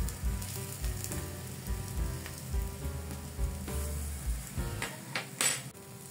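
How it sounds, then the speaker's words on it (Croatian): Eggplant grilling in a lightly oiled frying pan, a steady close sizzle and crackle of hot oil with occasional scraping clinks of a utensil against the pan. "Tiganj ćemo pomastiti sa malo ulja i krenuti sa grilovanjem patliđana dok ne dobije lepu boju s jedne i druge strane."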